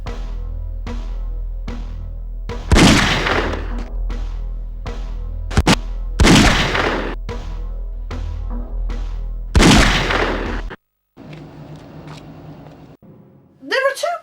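Gunfire from The X-Files Game on PS1, three or four loud booming shots spaced a few seconds apart over a steady low background, with a voice talking alongside.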